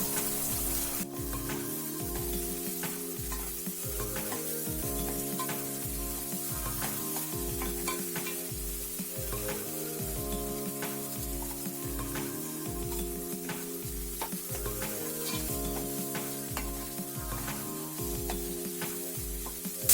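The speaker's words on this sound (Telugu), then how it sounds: "టెన్ మినిట్స్ దీన్ని చక్కగా ఫ్రై చేసుకోవాలి. కొంచెం ఆయిల్ పైకి వచ్చేటట్టు మనం చేసుకోవాలి." Coconut paste fries in oil for a dhaba-style chicken curry, giving a steady close sizzle with stirring. A looping rhythmic music track plays prominently over it throughout, with no talking.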